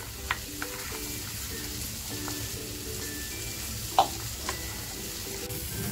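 Batter is stirred while water is added bit by bit, giving a soft, continuous wet swishing and scraping with a few sharp clicks of the utensil against the bowl, close and steady.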